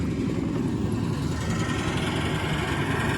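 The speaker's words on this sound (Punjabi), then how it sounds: "ਲੈ ਭਾਈ ਮਿਕਸਰ ਚੱਲੀ ਜਾਂਦਾ" Feed mixer running steadily on a poultry farm, a constant loud mechanical drone with an engine-like rumble throughout, no voices.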